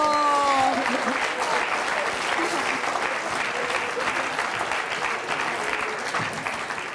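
A French television studio audience applauds in a sustained, dense wash of clapping that carries on steadily throughout, with a few voices faintly under it at the start.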